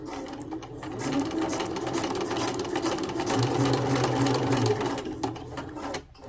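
Sewing machine stitching a fabric project bag, a steady close mechanical whir with a rapid needle chatter that runs continuously for about six seconds before stopping.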